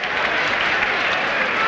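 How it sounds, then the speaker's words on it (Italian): Stadium crowd applauds after a goal in the 1989/90 Italian league football match between Alessandria and Arezzo, a steady, dense wash of clapping from many spectators that holds at an even level throughout. "Applausi, come potete sentire, amici sportivi"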